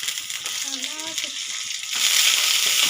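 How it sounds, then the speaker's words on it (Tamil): Onion and garlic sizzle in hot oil with a hissing crackle that jumps louder near the end, under brief talking by a woman at the start. "வெங்காயம் போட்டுக்கலாம். எண்ணெய் நல்லா காஞ்சிடுச்சு."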